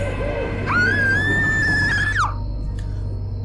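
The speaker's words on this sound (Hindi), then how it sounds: "वो बहुत जोर से चिल्लाई।" A woman gives one loud, sustained scream of fright, lasting about a second and a half, over a steady low background hum, and then it cuts off abruptly.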